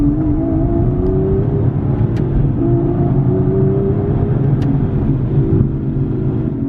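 An Aston Martin V12 Vantage S accelerates hard, its V12 engine note rising steadily in a loud, continuous rumble with a brief dip around a gear change, heard close from inside the car.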